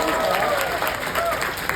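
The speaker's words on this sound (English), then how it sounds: "round of applause to our wonderful Member of Parliament, Chaco!" An audience at a political speech in Richmond, BC applauds a Member of Parliament, dense steady clapping filling the room throughout, with a voice faintly over it.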